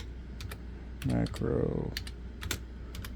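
Keystrokes on a computer keyboard while programming show macros and scenes, a scattering of sharp clicks spread across the clip with a louder burst in the middle, under a man's speech.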